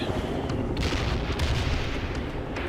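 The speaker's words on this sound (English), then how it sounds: "We'll wait for the airstrikes to hit" Airstrike explosions in the World in Conflict video game, a rolling series of heavy booms and sharp blasts rumbling together, moderately loud with a rough, sustained low roar.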